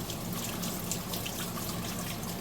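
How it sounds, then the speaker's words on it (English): Tap water runs steadily over angel hair noodles in a draining bowl, a close, continuous splashing hiss with no talk. "I'm just gonna run the water over it for a minute or so"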